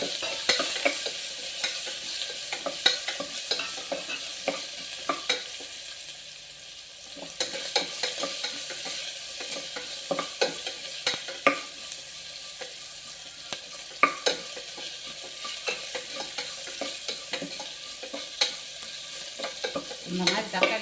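Small onions and curry leaves sautéing in a pan for tomato kurma, with a steady close sizzle and frying hiss and repeated scraping stir clicks throughout, briefly softening midway, no talking.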